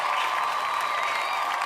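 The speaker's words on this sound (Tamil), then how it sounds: "பெரிய கைத்தட்டல் கொடுத்துடலாம்." Audience clapping at a Pongal special pattimandram debate event, a steady, dense wash of applause that holds at an even level throughout with no speech over it.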